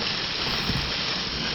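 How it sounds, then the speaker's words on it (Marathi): Monsoon rainwater streams down huge rock faces on a mountainside at Tringalwadi Fort, beside a deep valley, making a steady, dense rushing wash that stays even and unbroken throughout. "त्या मोठ्या मोठ्या कातळांवरून पावसाचं पाणी खाली वाहत होतं"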